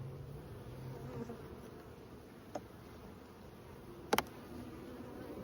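Up close, honeybees in a big, strong open hive colony with frames of brood keep up a steady buzz, broken by a few sharp clicks or knocks, the loudest near the end.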